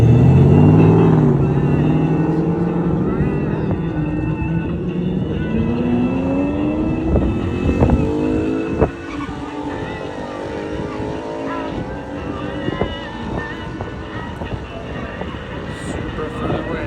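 Toyota Supra and Ford Mustang racing, loud engines revving up through the gears alone near the start, then a sharp shift thump and fading roar with scattered higher whines.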